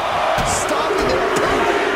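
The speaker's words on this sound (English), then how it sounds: "What a raucous crowd here tonight." A rowdy wrestling crowd at a night show keeps up a loud, continuous roar, with scattered shouts and whoops rising out of the mass of cheering.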